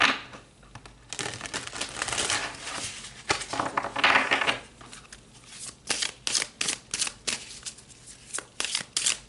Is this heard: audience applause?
no